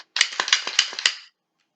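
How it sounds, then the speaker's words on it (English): A handgun is handled during dry-fire practice, producing a rapid run of sharp, close metallic clicks and clacks that lasts about a second and ends in silence. "Dry fire this one."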